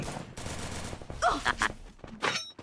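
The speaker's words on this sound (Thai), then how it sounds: "เอ็มเอ็มยิงถังแดงเลย" Bursts of gunfire in the Free Fire video game as a red barrel is shot, several loud rapid shots clustered together with brief gaps between them.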